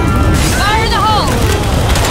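A grenade blast in Left 4 Dead 2 lands as a loud, booming roar that fills the moment and rumbles on, with a voice calling out over the din.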